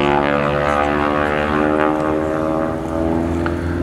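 A Harvard training aircraft drones loudly and steadily, its propeller engine holding a constant, heavy hum throughout with no voices over it.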